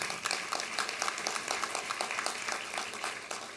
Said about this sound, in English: Yeah, you can clap for him.